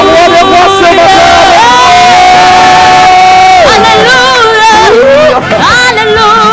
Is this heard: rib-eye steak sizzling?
no